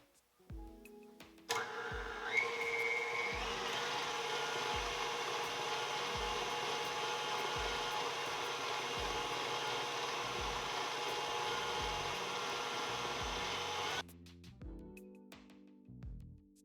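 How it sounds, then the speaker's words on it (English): Electric mixer blending butter and sugar for oatmeal cookie dough, a steady loud whirring hum with rhythmic beater clatter that runs for about twelve seconds and then switches off, followed by a few handling noises. "So I am going to get started blending my butter and sugar together."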